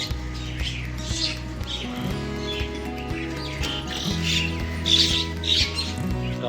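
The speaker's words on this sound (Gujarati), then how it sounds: "કાબરો કાકડાઓનું ઝુંડ એ પણ નજીક સેવો ખાય છે" A flock of mynas and crows eating sev snacks squawks and chirps repeatedly nearby, the calls overlapping above a low steady background of music.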